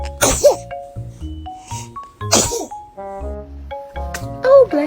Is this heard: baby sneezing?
yes